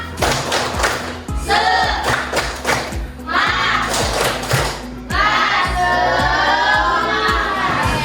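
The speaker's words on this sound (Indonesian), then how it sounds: "Kita tepuk semangat dulu" Schoolchildren in a primary classroom perform a rhythmic 'tepuk semangat' clapping chant, sharp unison claps and thumps in patterned bursts with shouted chanting voices, loud and close.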